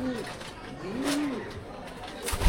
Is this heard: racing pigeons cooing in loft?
yes